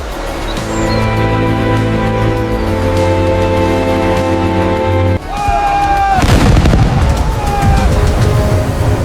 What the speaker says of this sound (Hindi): किले के ऊपर से तोपों की सलामी दी गई।